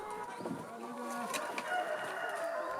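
Free-range chickens on a farm in the foothills of Jirisan, clucking and calling softly at moderate distance against steady outdoor ambience, with no talk.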